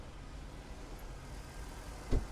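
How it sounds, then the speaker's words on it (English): A Nissan car with a CVT transmission idles as it warms up, a steady low engine rumble close by, with one brief thump near the end. "now we need to let the car warm up"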